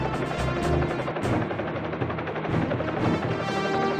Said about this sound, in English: Use the helicopter to airlift them to safety.